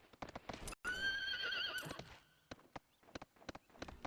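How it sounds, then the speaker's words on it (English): Horse in the Suikoden 3 game gives a loud, close whinny over a run of clip-clopping hooves that continues after the call, with no voices. "Dude, China, we got a horse!"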